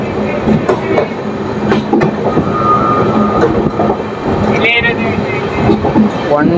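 Rani Chennamma Express running on its tracks, a loud continuous rumble with rhythmic clickety-clack of wheels over rail joints and occasional metallic squeals, heard from on board.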